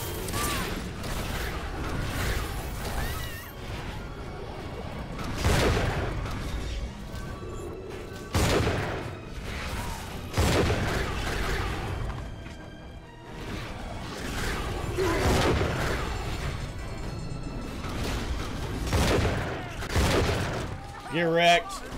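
Bioshock 2 combat with a fire attack: repeated whooshing bursts and crackling blasts across the stretch, loud and busy, with someone talking over parts of it.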